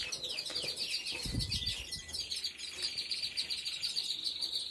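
Canaries kept by a breeder chirp and trill continuously in a high, busy chorus, with a brief low thump partway through and no voices.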